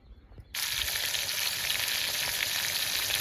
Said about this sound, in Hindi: अभी मैंने तड़का पकने के लिए रखा हुआ है